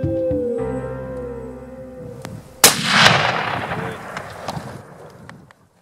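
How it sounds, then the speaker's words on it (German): A single hunting rifle shot at a gemsbok antelope about 160 meters away in Namibia rings out sharp and loud, then rolls away in a long echoing decay across open terrain. "Und so schieße ich in einer Traumkulisse auf ca. 160 Meter auf den Gemsbock."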